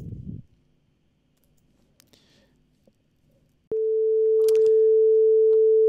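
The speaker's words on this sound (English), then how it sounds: "let's run a concert pitch sine wave" A pure concert-pitch sine tone generated by the sema-engine live-coding library starts abruptly after a few faint keyboard clicks and holds steady and loud to the end.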